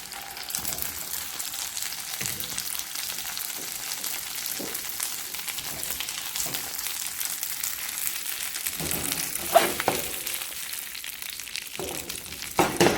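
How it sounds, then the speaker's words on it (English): Steady sizzling and crackling of cipollini onions frying in butter in a hot pan, with occasional louder pops and stirring sounds, no voices. "I'm going to be adding my onion. If you hear it sizzle, it's hot enough."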